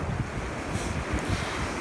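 Strong wind buffets the microphone in a dense, continuous roar over sea waves, the surf mostly masked by the gusting noise, with no voices.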